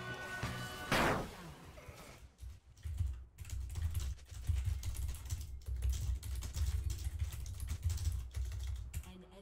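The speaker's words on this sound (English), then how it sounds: "I die because I'm typing." Rapid clicking on a computer keyboard during an online multiplayer game, a quick, continuous patter of keystrokes close to the microphone after a brief whooshing sound near the start.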